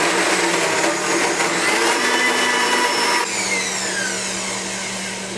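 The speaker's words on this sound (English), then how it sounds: "I'm going to blend that up just a little bit" A Blendtec blender runs continuously at high speed, chopping garlic and onion for a raw pizza recipe, a loud steady motor whine that changes pitch partway through and then settles slightly quieter.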